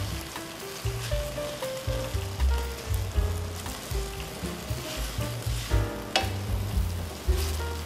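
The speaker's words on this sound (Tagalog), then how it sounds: "Okay, you just saute it." Seafood sautéing in a pan, seasoned with salt and pepper, gives a steady bright sizzle that runs throughout beneath louder background music with a thumping bass line.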